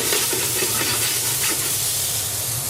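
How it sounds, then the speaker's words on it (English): Garlic sizzling cut side down in a hot pan with meat, a close, steady hiss and crackle of frying fat without pause. "Add the garlic cut side down."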